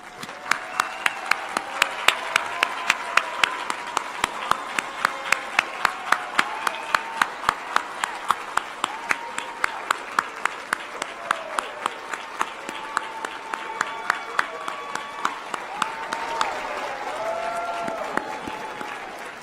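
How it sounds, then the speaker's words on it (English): Guests and graduates applaud at a college commencement ceremony, a long, steady wash of clapping from a large crowd with individual sharp claps standing out close by throughout. "Please stand up and take a bow as guests and graduates applaud you."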